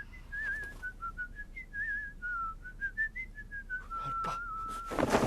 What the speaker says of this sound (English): was the Bristly Whistler. Whistling so sweetly.